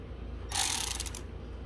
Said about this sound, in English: And then we're going to release the 8mm bolts that hold the coils down.